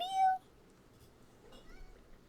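A pet cat gives a single clear meow at close range, then falls silent with only faint room noise after.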